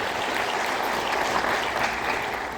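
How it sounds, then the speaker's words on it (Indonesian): A crowd claps in steady, dense applause for a few seconds without pause. "Tepuk tangan buat dia."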